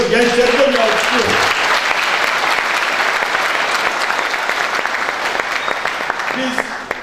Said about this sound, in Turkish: Gençler de bir alkışlıyor.